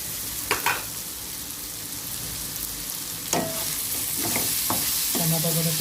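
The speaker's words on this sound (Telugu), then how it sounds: "టమాటో ఉడుకుతుంది." Tomato cooks in a pan for a carrot fry, making a steady close sizzle with a few clinks and scrapes of stirring, and no one talking.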